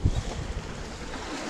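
Wind of about 10 knots rushing over a sailboat at sea, a brief steady roar with buffeting gusts against the microphone and no voices.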